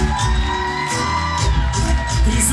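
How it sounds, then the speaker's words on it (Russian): An audience applauds and cheers at a children's variety contest award ceremony, a loud, continuous wash of clapping and whoops from a crowd, with music playing underneath. "Друзья, громче аплодируем,"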